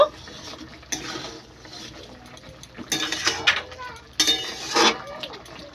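Stirring potato and cauliflower curry with a spoon in a pot after adding garam masala, with scraping and clinking in three loud bursts over steady background noise.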